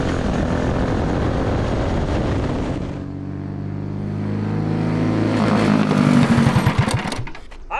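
A loud, buzzy 212cc go-kart racing engine runs steadily up close on a track, its pitch dipping then rising again as the throttle opens toward the end.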